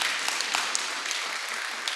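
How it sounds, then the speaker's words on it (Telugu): Children in a Sunday school gathering at a church clap together in steady, dense applause that runs without a break, close and fairly loud. "క్లాప్స్ కొట్టండి"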